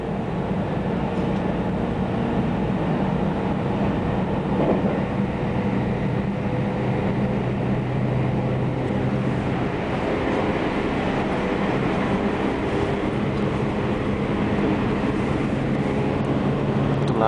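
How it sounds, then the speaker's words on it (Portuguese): A train running at over 100 km per hour near Gamagori station in Japan makes a steady, continuous rumble and rail roar heard from onboard, with no one speaking. "Trem que viaja a mais de 100 km por hora."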